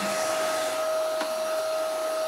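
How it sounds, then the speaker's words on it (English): A vacuum cleaner runs continuously, a steady, even whir holding one droning tone with a faint brief rise near the middle and no talk over it. "When we're vacuum cleaning, if I do it for 5 minutes, she needs to do it for 5 minutes."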